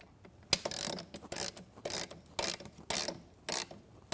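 A wrench ratchets as bolts are tightened on metal brackets to install a Konnector on a Studio Reformer with metal risers: repeated close, rhythmic bursts of clicking and grinding, about eight strokes in a steady back-and-forth pattern.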